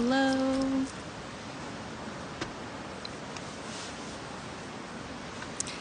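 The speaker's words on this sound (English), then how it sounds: "don't know if you can hear the river behind me" A steady broadband rush of a flowing river fills the background, constant and moderately loud, with a brief tonal note at the very start and faint ticks.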